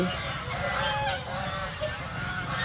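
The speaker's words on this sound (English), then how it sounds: "ये आ गया है एक ब्यूटीफुल सा पॉन्ड जहाँ पे इतने सारे swans हैं." Swans and ducks on a zoo pond in the evening give honking, fowl-like calls that rise over a dense, steady outdoor din of background noise.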